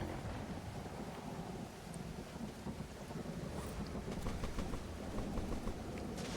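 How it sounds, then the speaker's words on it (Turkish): Stormy wind gusts over open sea in the survival game Stranded Deep, a broad, rushing low roar with buffeting and surging water, fairly quiet and without speech. "Ama fırtınadayız ya sanki"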